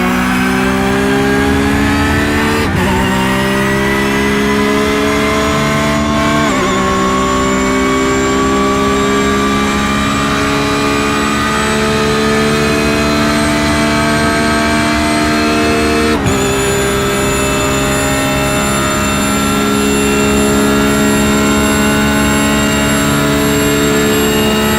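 A Porsche sports car's engine from the onboard view in a sim racing game at Indianapolis, a loud steady high-pitched drone. Gear shifts make the pitch drop several times before it climbs again, with no talking.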